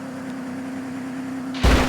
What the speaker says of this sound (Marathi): बस सोबत क्रॅश करू